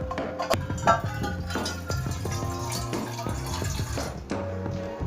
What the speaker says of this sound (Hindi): बट मैं थोड़ा बहुत पानी ऐड कर लेता हूँ